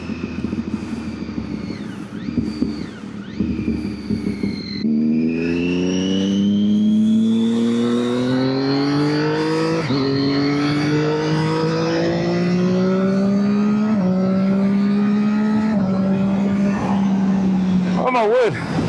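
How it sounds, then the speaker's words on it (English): A Triumph Daytona 675 motorcycle accelerates hard through several quick-shifted gears, the engine note climbing steeply in repeated rising sweeps under wind roar, loud and close, with a short crackle near the end. "And this exhaust just sounds amazing. You can hear those little crackles in the backfire."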